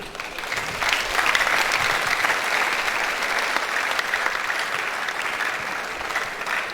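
An audience at a student orientation programme claps steadily as a guest speaker is welcomed to the high table, a full, sustained applause that swells early and holds.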